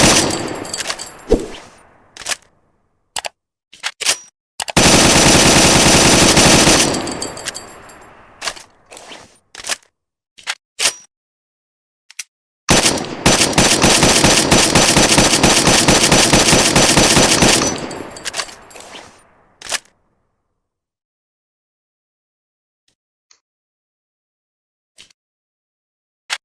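Long bursts of M14 rifle fire, loud and close: scattered single shots, then two sustained rapid-fire strings of several seconds each, separated by more single shots, ending in quiet.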